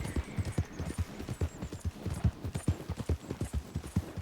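A horse galloping in Red Dead Redemption 2, its hooves beating a quick, steady clip-clop rhythm throughout at moderate loudness, with faint background hum.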